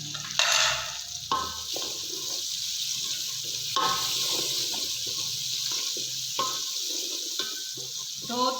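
Beef frying in a pan with a little water, salt, whole coriander seeds and coarse red chilies: a steady sizzle under repeated scraping stir strokes, close and fairly loud, with no talking.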